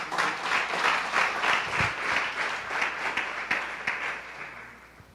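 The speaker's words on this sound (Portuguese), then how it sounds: "Você dê uma salva de palmas ao Senhor." A church congregation applauding during a Brazilian service, dense continuous clapping from many hands, fairly close and steady for about five seconds before tapering slightly.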